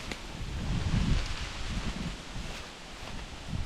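Wind blows across a fall wilderness campsite, rustling leaves in uneven gusts with low rumbling buffets against the microphone, rising and easing over a few seconds with no talk.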